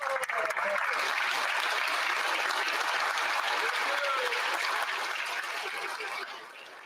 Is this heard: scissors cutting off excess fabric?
no